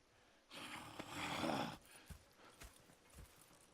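Horse hooves clopping at a slow walk in Red Dead Redemption 2, fairly close, with a brief burst of shuffling noise and soft snorting in between.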